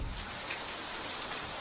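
Tropical rain falls steadily in Bali as a dense, even hiss of rain on surfaces, constant and moderately loud throughout, with no talking.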